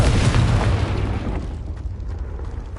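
A Confringo spell blast erupts in Hogwarts Legacy, a loud, deep explosion with a heavy rumbling boom that fades gradually over a few seconds, heard alone without talk.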